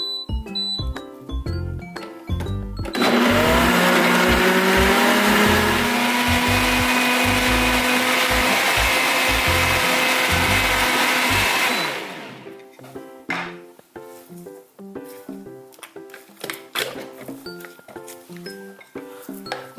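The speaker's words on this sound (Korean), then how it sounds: "요거만 갈아주셔도 맛있는 김장김치 양념이 되니까요 이렇게 해서 갈아주세요" A kitchen blender grinds kimchi seasoning ingredients for a simple homemade winter kimchi filling, a loud steady whir running about nine seconds between stretches of quieter background sound, with no talking.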